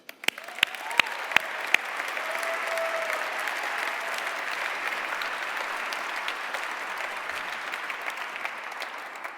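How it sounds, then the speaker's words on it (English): Sustained audience applause at a business conference on entrepreneurship, a dense steady wash of many hands clapping that builds quickly and holds evenly for several seconds, with a few sharper individual claps standing out near the start. "I hope you support me with a big applause and engagement"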